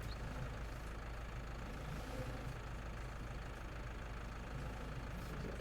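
A tractor engine in Farming Simulator 19 drones steadily at a low idle, a constant, fairly quiet rumble with no other sounds.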